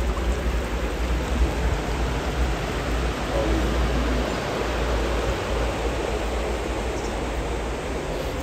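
The Ibar river flows steadily close by as a constant, full rushing roar of water, with no voices over it.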